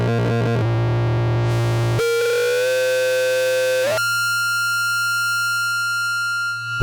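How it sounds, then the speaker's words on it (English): Electronic synthesizer tones from a Manifold Research Centre Antilope module in distortion-only feedback mode: a buzzing distorted drone, then a sliding pitched feedback sweep, settling into a sustained bright, harmonically rich tone. "a distortion-only feedback, which we just heard"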